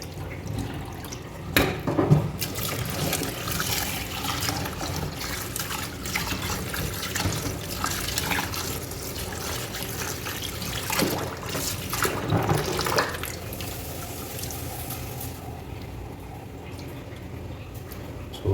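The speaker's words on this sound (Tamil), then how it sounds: "ஸோ அரிசி இப்படி தான் கழுவணும்." Basmati rice being washed by hand in water for a biryani, with steady sloshing and trickling of liquid through most of the stretch and a few louder splashes, no talk.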